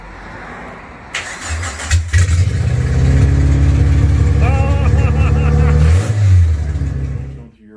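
A Willys Jeep engine fitted with a Suzuki Samurai drivetrain cranks over and catches, then settles into a loud, steady close-up idle with a brief rev, ending abruptly.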